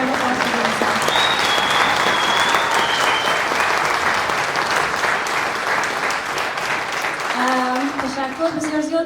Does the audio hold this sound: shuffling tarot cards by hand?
no